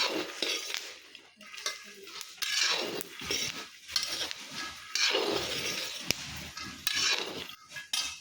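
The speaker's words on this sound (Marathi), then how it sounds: "ह्याचं शेंगदाणा मस्त भाजायचं चालल्यात आणि शेंगदाण्याचं लाडू करायच्यात" Peanuts being dry-roasted in a pan for laddoos, stirred with a metal utensil that scrapes and clinks steadily against the pan, close and fairly loud, with no talking.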